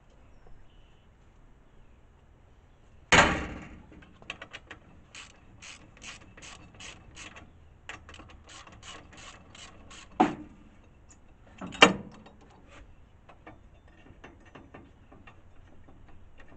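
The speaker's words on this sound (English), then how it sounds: "Now drop my ratchet." Ratchet wrench clicking in quick, close, rhythmic bursts while working on 1976 Vega motor mounts, punctuated by a few sharp metallic clanks.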